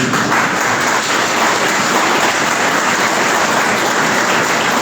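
Dense, even clapping fills the room from an audience at a higher-education guest lecture, a loud unbroken patter of many hands that holds steady throughout.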